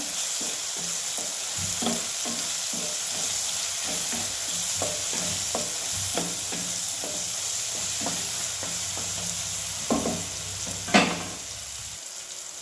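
Okra is stirred in a hot pan with coriander powder and asafoetida, a spatula scraping in a rhythmic series of knocks over a constant close sizzle, with one louder scrape near the end.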